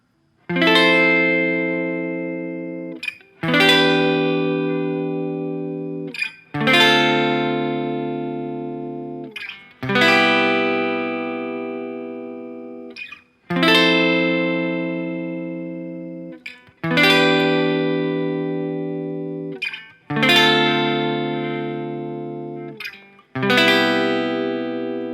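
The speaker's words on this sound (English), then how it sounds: "And it repeats, and all put together, it sounds like this." An electric guitar with effects plays a chord progression, eight evenly spaced sustained strummed chords, each ringing out and decaying before the next, with no talking.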